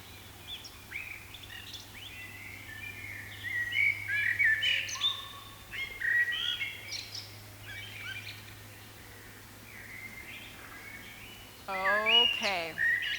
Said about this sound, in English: come back to the bird sounds and knowing that you're hearing.